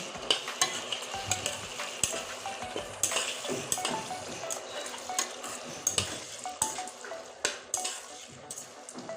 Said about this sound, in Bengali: আমি এখন সুন্দর করে কষিয়ে নেব